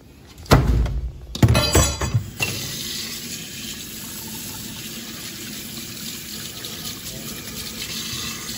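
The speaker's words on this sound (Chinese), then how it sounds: "咱们清水洗净" Tap water runs steadily into a pot holding pork, after a couple of loud clanks and splashes as the meat and pot are rinsed; the stream keeps up as an even hiss to the end.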